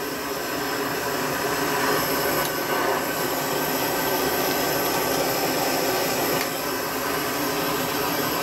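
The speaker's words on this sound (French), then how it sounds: "le dard bleu du chalumeau, pour ceux qui ne connaissent pas, hein, c'est là qu'il y a le plus de chaleur, c'est donc avec ça qu'il faut chauffer" A blowtorch burns with a steady, loud roaring hiss while its blue flame heats copper to make a copper mallet, the rushing noise continuous and unbroken throughout.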